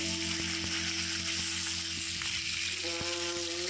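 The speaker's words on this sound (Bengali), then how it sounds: "এবার মাছের মাথা দুটোকে নুন হলুদ মাখিয়ে ভেজে নেব।" Two fish heads coated in salt and turmeric fry in oil in a pan over a medium gas flame, a steady dense sizzle throughout with a constant hum beneath and occasional soft clicks.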